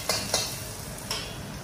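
Garlic, onion and carrot sizzle in a pan while a utensil scrapes and taps the metal a few times, a soft steady fry underneath, close and quiet.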